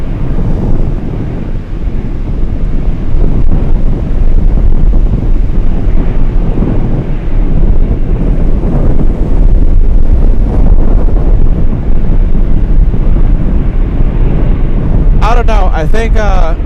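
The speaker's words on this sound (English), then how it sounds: "I think the wind is getting stronger." Strong, gusty wind at Anchorage airport near runway 15 roars continuously into the microphone, loud and buffeting throughout, with faint talk underneath and a brief tonal whine near the end.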